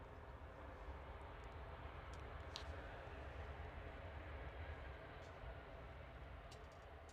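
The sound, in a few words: EgyptAir airliner at Manchester airport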